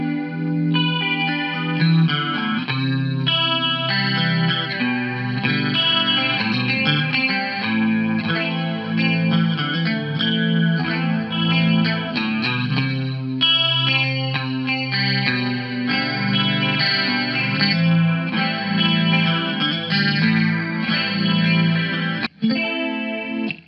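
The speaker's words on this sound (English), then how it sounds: "This is the Fender, just a standard Fender clean with chorus." Electric guitar played through a Line 6 AmpliFi 75 on a standard Fender clean amp model with chorus, ringing out shimmering chords and single notes continuously, close and fairly loud, with no talking.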